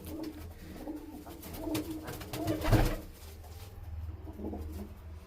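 Pigeons kept by a breeder in Faridkot for long-duration flying coo in low, soft repeated calls, with one louder swell midway, set against steady background noise.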